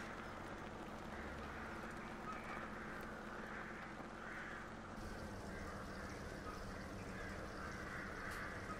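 Faint bird calls, duck-like quacks and caws, repeat irregularly across a quiet open island farm setting in Farming Simulator 17, under a steady low ambient hum.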